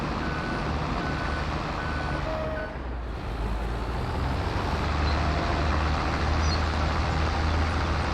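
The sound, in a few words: bulldozer pushing dirt in Farming Simulator 22 video game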